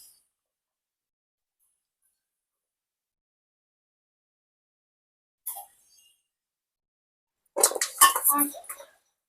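Pickle pieces are tipped into a jar. After a long silence there is a small tap, then a short, close rattle and clatter lasting about a second.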